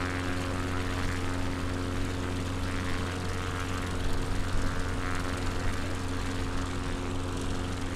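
A propeller airplane in flight on a crosswind leg of a coastal tour near Aberdeen, its engine a steady, loud, continuous drone with strong low hum tones and no break throughout.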